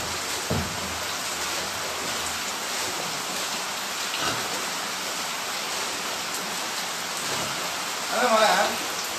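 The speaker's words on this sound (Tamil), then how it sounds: "மழை நல்ல மழையா இருக்குது" Heavy rain pours steadily over a pig farm in Tamil Nadu, a dense continuous hiss with a few louder thuds and a short burst near the end.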